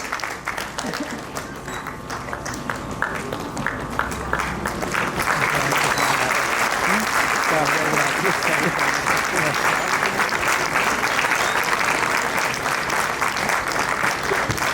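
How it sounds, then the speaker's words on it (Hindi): A crowd at a government school mentorship program ceremony claps, the applause starting moderately and swelling into loud, sustained clapping from the gathered audience, with some talk at the start. "जोरदार तालियां उन सभी गुरुओं के लिए,"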